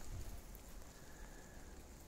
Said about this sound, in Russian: На улице дождик.